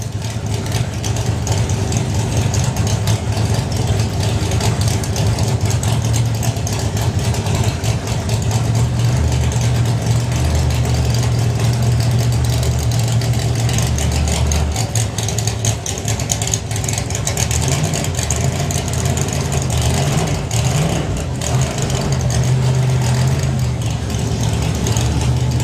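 A Pro Mod Camaro drag car sits at a drag racing finals event after a nitrous purge, its heavy engine idling loudly and steadily with occasional rises in revs, a constant deep rumble running throughout with no talk.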